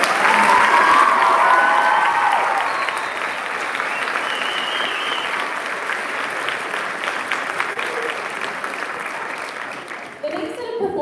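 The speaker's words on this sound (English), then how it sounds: "Let's give another round of applause to all of our team." Audience applause for a school choir team at an evening concert, loud and dense at first with some cheering, then easing into steady clapping before fading out near the end.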